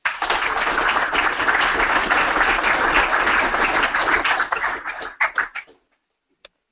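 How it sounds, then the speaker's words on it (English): Audience at a company townhall meeting applauds new employees: dense, sustained clapping from a sizable crowd, loud and steady for about five seconds before thinning out to a few last claps and silence. "give a round of applause to all our new employees"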